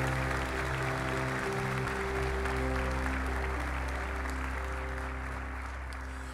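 A church congregation applauds Jesus during a sermon, a dense, steady wash of clapping from many hands that lasts the whole stretch over sustained organ-like keyboard chords.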